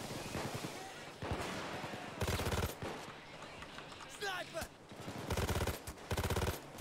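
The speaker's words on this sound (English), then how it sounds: "that was some terrible shooting" Loud bursts of automatic gunfire in the video game Payday 2, several rapid rattling volleys separated by short gaps, with a player talking in between.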